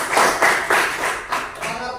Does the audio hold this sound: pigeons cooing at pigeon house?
no